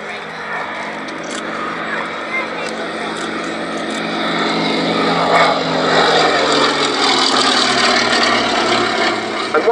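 Westland Lysander in special duties markings flying at the Shuttleworth Fly Navy airshow, its steady propeller engine drone building and holding loud over a wide band, with a commentator's voice over it.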